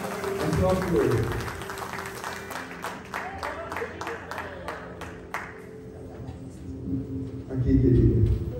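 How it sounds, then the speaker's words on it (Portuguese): An audience at a musical gathering of friends applauds a samba performer, a sustained round of clapping that fades out, with talk and crowd noise swelling near the start and end. "aplauso para ele."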